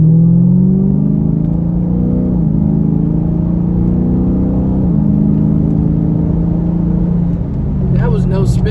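A Dodge Charger Scat Pack on new rims and tires accelerates hard to 70 mph, its engine rumbling loudly from inside the cabin with rising pitch and gear shifts, ending in a drop-off with a voice briefly heard over it.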